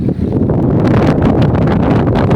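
Strong wind roars and buffets the microphone continuously, a loud rushing noise with no voices.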